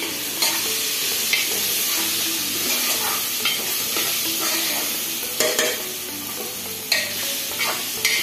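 Spiced rice with dry fruits and garam masala stirred in a hot pan, a steady close sizzle broken by scraping spoon strokes at irregular intervals, with no talking.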